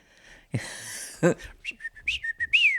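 A person imitating a Mexican whistle, producing a few short, shrill whistled notes and a rising final tone after a breathy noise and throat sound, close and fairly loud.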